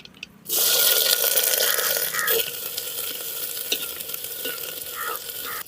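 Mustard seeds and chopped shallots hit hot oil with a sudden loud sizzle that keeps frying and crackling steadily for several seconds, close up, with occasional stirring and no voices.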